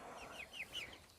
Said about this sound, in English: I actually have 2 little chickens in here